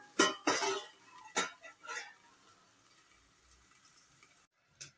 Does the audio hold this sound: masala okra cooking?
yes